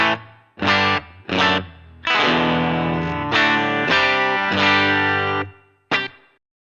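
Electric guitar played in a country style through the Hot Springs reverb on a Line 6 HX Stomp with no delay, several chords and short phrases ringing out with a short reverb tail between strums, clear and upfront.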